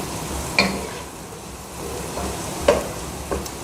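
Tomatoes sautéing in a pan for veg pasta, a soft sizzle under a few scattered stirring clinks and spatula knocks, close and fairly quiet, with no voices.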